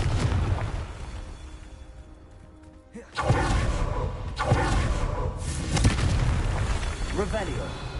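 Confringo blasting spell explosions in the Hogwarts video game, two or three booming bursts after a quiet lull, loud and close, mixed with shouted voices.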